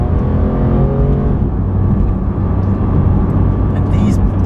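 Porsche 991 GT3 engine revving with a dense, steady roar, loud and close from inside the car, with someone talking over it.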